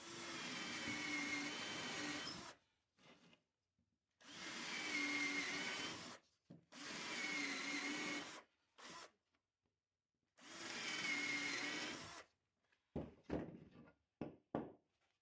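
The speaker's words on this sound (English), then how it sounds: "So let's start drilling our holes here." A power drill bores holes in wood for a charred Shou Sugi Ban bird feeder, with four loud, steady whirring bursts of about two seconds each separated by silent gaps, then a few sharp clicks and knocks.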